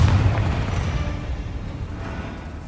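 A Bombarda spell blast in Hogwarts Legacy gives a loud, booming explosion with a heavy low rumble that slowly decays across a few seconds.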